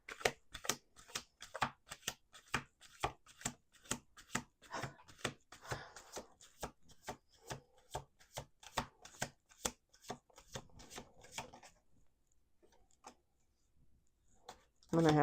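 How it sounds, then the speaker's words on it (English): Tarot cards shuffled by hand in a quick, even run of crisp riffling snaps, close and clear, then a pause and a final burst. "2 more shuffles."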